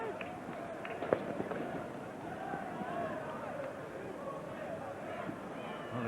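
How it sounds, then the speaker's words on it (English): Fireworks bursting around a football stadium during a Manchester United versus Arsenal League Cup match, faint sharp pops scattered through crowd noise and steady commentary over the top. "Fireworks blasting off all around us here. I can hear them."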